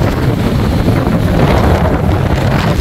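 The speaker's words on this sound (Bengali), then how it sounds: "মেঘনা উপকূল প্রচুর উত্তাল হয়ে যাচ্ছে আস্তে আস্তে, বিশাল বিশাল ঢেউ আসছে পড়ছে মেঘনার উপকূলে।" Wind and big waves on the stormy Meghna river coast at Ilisha launch ghat in Bhola, churned up by a low-pressure system: a steady, loud roar of gusting wind buffets the microphone over surging water, with no one speaking.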